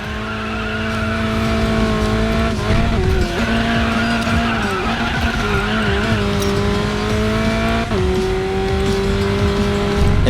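Alfa Romeo 4C in the Racing Master video game accelerating hard, the engine note climbing steadily through gears with brief drops at shifts, loud and continuous, tire squeal and skidding mixed in near the end.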